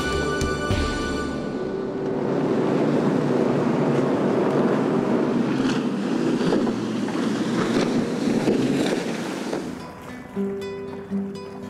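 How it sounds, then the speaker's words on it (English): Steady engine drone of fishing boats heading out across Lake Kariba, with wind buffeting the microphone and a broad wash of spray, fading toward the end. "Boats head out with fishermen keen to see what's in store for them today."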